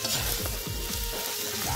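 Oysters with onions fry on a hot tawa, giving a steady, close, crackling sizzle that runs unbroken throughout.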